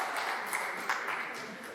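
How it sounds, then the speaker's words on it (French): Students at a school quiz-show semi-final clap, producing a brief, steady wash of applause from a crowd in a hall, with a voice faintly mixed in. "Allez, applaudissez très fort."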